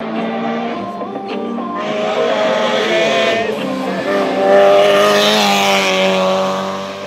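A Caterham 7 race car engine revs high and climbs through its gears at a hill climb race, loud and close, with tires squealing briefly and talk over it.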